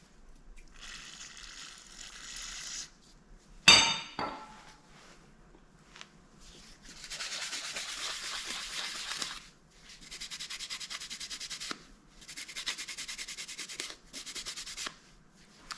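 Rag wiping brand-new front brake pads for a Suzuki Marauder 250 (GZ250) with brake cleaner, a close scratchy rubbing in several bursts of a few seconds each, with one sharp clack partway through.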